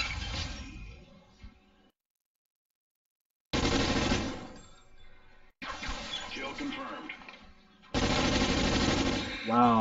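Video game gunfire in bursts, rapid automatic shots filling several stretches separated by brief silences, loud and close.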